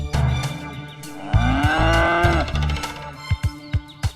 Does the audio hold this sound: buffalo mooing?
yes